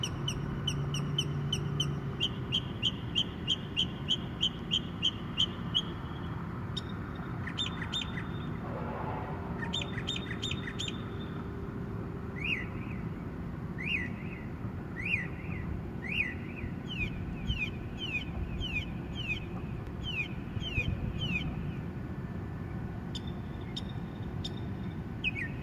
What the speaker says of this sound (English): So I thought you guys might like hearing this bird sing a song.